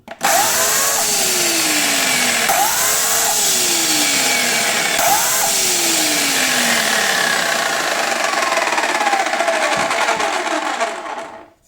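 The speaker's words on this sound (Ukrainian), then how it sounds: "І далі ми вже вільно можемо запускати пилу." A loud electric chainsaw, a Bosch Universal 35, whines steadily up close, its pitch sweeping downward in repeated cycles before cutting off at the end.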